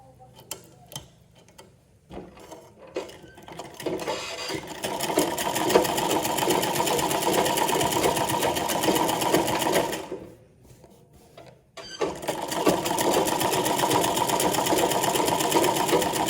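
A sewing machine stitches a blouse sleeve. A few sparse ticks and clicks come first, then a long, steady, close motor run, a brief pause, and the run resumes with the same even mechanical whir. No one speaks.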